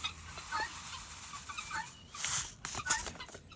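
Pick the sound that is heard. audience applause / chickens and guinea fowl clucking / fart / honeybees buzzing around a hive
chickens and guinea fowl clucking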